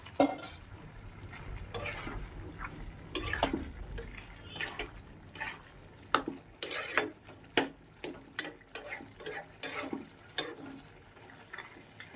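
Prawn shells and bori lentil dumplings frying in a pan, a low steady sizzle broken by repeated scraping, stirring clicks of a spatula against the pan, close and fairly quiet, with no talk.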